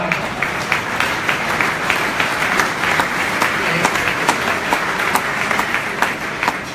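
An audience applauds steadily, with many hands clapping in a thick, continuous patter and sharper individual claps standing out throughout.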